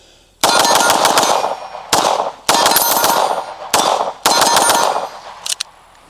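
Fusion Firearms XP-Pro 2011 pistol fired at a range with steel targets, several fast strings of loud cracking shots, each burst followed by ringing clangs of hit steel, very close.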